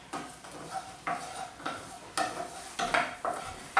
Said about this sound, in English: use your wooden spoon to mix it around